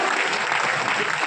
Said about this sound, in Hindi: खड़े हो जाए, तालियां बजाइए